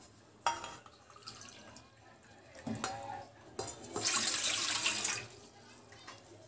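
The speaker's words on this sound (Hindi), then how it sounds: "अब हम इस पतीले के अंदर 2 कटोरी पानी डालेंगे।" Water poured into a cooking pot (patila) in a home kitchen while preparing amla for steaming, heard as short splashing bursts and a steadier pour near the end, close and moderately loud.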